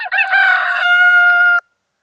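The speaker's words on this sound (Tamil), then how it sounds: "சேவல் கொக்கரிக்கும்," A single rooster crow, clear and loud, rising and then holding a long drawn-out final note for about a second and a half before cutting off into silence.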